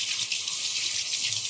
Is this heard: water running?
yes